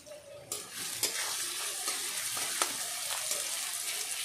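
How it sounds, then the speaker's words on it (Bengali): Sliced onion fries in a pan with green chillies and a pinch of salt, a bright, close sizzle punctuated by several sharp stirring taps, with no talking. "যাতে পেঁয়াজটা তাড়াতাড়ি ভাজা হয়ে যায়"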